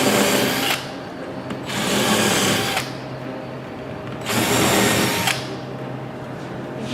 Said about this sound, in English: we're just going to make a couple of pre-drill holes here